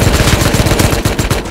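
Automatic gunfire in the video game Rust, a loud close rapid burst of evenly spaced shots lasting over a second, no talk.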